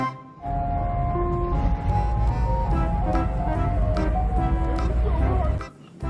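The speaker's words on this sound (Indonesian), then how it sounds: "Di sini juga ada mobil es krim." A toy ice cream truck plays its jingly melody, a steady bright tune running for several seconds with a voice talking faintly alongside.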